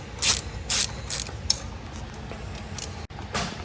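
A ratchet loosens an oil cooler bolt on a BMW 335i, with a few close, crisp clicking bursts separated by short pauses and a brief metallic clunk.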